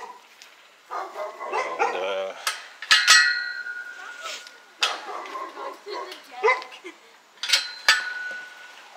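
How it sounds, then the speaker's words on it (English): A neighbor's dog barks in a backyard at a new house, several separate barks spread out and moderately distant, with a person talking nearby. "Neighbor's dog."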